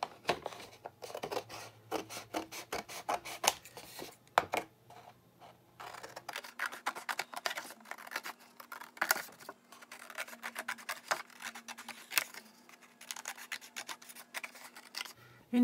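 Scissors cutting paper into strips, quick repeated snips and rustling paper in close, irregular bursts with a faint background hum.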